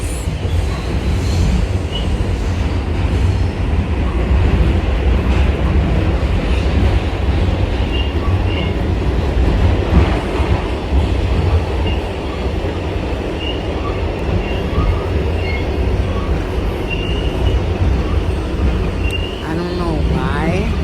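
Loud, constant rumble and roar of a morning train running on rails, heard from inside the carriage, with steady wheel and track noise throughout and a voice talking over it.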